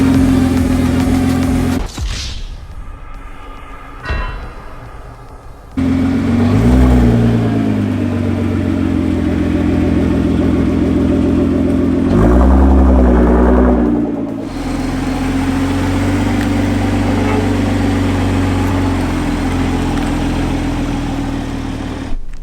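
A Toyota Supra and a Nissan GT-R, both on stock suspension and OEM-sized tires, idle and creep up over a curb, with steady engine hum, short bursts of revving and a couple of bumps from the cars mounting the edge.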